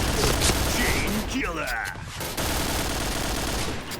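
A silenced SC-2010 rifle firing in a shooting video game, rapid muffled bursts clustered in the first seconds amid game effects, with a player talking over the action.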